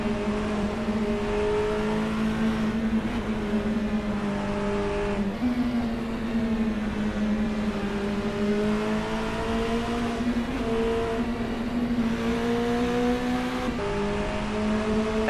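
Race cars in a racing video game sweep through the Porsche Curves at Le Mans, engines howling steadily and close, with pitch rising and falling through each gear change and no voices.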